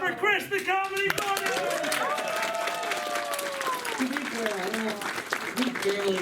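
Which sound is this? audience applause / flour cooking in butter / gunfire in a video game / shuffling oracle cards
audience applause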